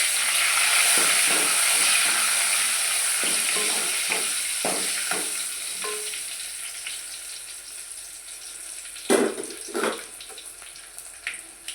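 Garlic cloves sizzle in hot oil for tomato rasam, a steady bright crackle with intermittent stirring scrapes and clinks of a spatula against the pan, close and continuous with no talk.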